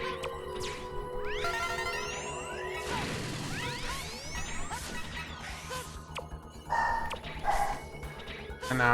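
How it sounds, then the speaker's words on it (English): Household dogs bark in the background beneath Mega Man X4 gameplay, scattered sharp barks mixed with game whooshes, whip-like effects and crashes. "My dogs are barking in the background."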